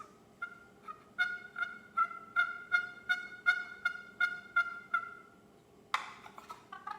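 A turkey box call worked softly by a spring turkey hunter, giving a sequence of about a dozen raspy yelps in even rhythm, then a sharper cutting burst near the end, close and fairly quiet.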